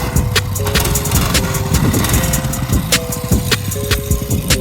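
A home-built go-kart engine revs hard with its tires spinning on the ground, a loud, busy rasp with repeated sharp bursts and clatter running throughout, no talking.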